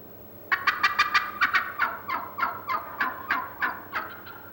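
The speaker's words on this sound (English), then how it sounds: "Now he's gobbling to lure the hens to him." A wild turkey gobbles in a rapid series of about a dozen loud, rattling calls close by, each burst trailing off briefly before the next, with no other sounds around them.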